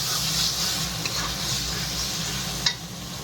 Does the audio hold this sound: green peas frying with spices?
yes